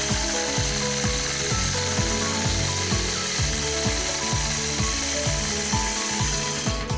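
Sewing machine doing free-motion quilting along a trailer ruler, its needle mechanism chattering in a fast, steady mechanical rhythm close by, continuous for the whole stretch without talk.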